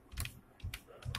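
Quiet keystrokes on a computer keyboard come in three short bursts of a few clicks each, close up and soft, with no one speaking.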